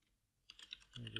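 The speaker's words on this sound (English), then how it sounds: "go to Google and type in LabVIEW Home" Quick keystrokes on a computer keyboard, a short burst of clicks that starts after a moment of near silence and ends in a denser cluster of taps.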